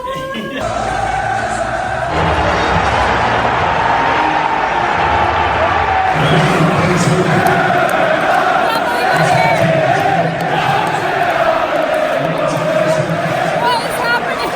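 Loud, dense crowd roar fills a Premier League football stadium, with cheering and chanting swelling continuously and surging higher partway through, while nearby voices speak over it.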